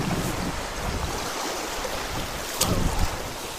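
Steady wind rushing and buffeting close to the microphone, with a louder gust near the end.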